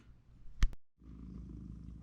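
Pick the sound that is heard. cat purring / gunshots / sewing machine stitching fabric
cat purring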